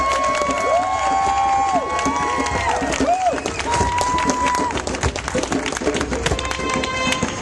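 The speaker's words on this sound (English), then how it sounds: "So can we all please give her a thunderous round of applause?" Outdoor crowd at a Pride Week flag raising in Newark cheering and applauding, with loud shouts, whoops and rising voices over steady clapping, close and continuous throughout.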